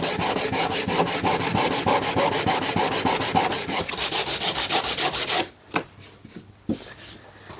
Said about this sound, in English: I always like to use a sanding block, as it just keeps the surface nice and flat.